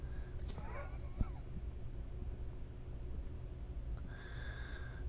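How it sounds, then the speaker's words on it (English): A house cat gives a few faint, short meows over a noisy room background, with quiet gaps between the calls. "Cat here gets in everything."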